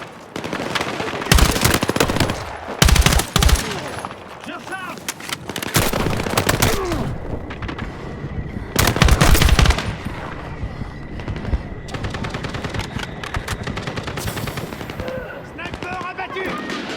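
Loud, close machine gun fire in the Battlefield 6 campaign on PC, coming in repeated sustained bursts with loud game sounds between them and French voices calling out over the combat.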